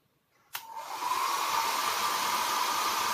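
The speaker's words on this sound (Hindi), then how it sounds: "मैंने हेयर ड्रायर को चालू कर दिया है। हम लोग फर्स्ट स्पीड पे उसको चला के देखते हैं।" A Philips hair dryer clicks on and rises into a steady airy whir with a tonal whine, held on its first speed, close up and with no talk.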